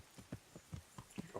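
A horse's hooves clip-clop in the medieval video game Kingdom Come: Deliverance: six faint, evenly spaced hoof strikes at a steady walking pace, quiet and without speech.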